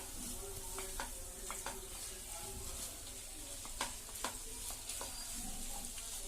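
Macaroni frying in a pan makes a faint, continuous sizzle, with scattered clicks and scrapes as it is stirred. No one speaks.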